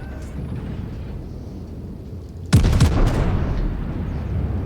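In a World of Warships naval battle, battleship guns fire with a single heavy boom halfway through, sudden and loud, then rumble on over the low, steady hum of the game's engine and sea ambience.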